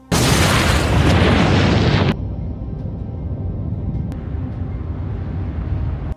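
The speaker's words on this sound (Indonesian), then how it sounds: "tiba-tiba ledakan besar terjadi setelah pasukan menembak tabung gas." A large explosion from a gas cylinder shot by soldiers in a film: a loud, dense broadband blast for about two seconds, then cutting to a lower rumbling roar with faint debris crackles through the rest.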